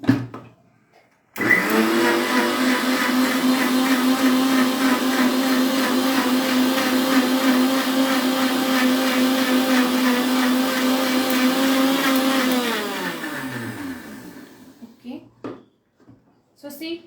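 An electric blender grinding dry sharbat premix ingredients such as jeera powder and rock salt, a loud steady motor whine after a brief start that runs for about eleven seconds, then winds down, with faint handling noises at the end.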